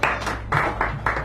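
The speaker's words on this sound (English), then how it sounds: "Give him a nice round of applause." An audience at a San Francisco café poetry reading gives a short round of applause, with bursts of clapping that rise and fall in quick waves nearby.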